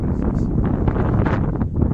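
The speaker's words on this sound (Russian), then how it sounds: "какой ветер подул сильный" Strong wind by a lake in snowy weather buffets the microphone in a steady low roar with gusty rumbling throughout, loud and close, with no voices.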